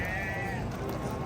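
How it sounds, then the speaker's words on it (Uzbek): Sheep bleat at a busy livestock market in Andijan, a sustained wavering call rising over the steady murmur of the crowd and background chatter. "Jonivor, qo'ylar."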